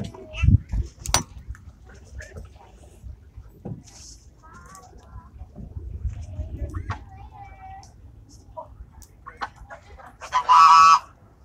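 Geese honk intermittently at close range amid rustling and shuffling as they are fed at Linvilla Orchards, with a loud burst of honking near the end; a person speaks briefly.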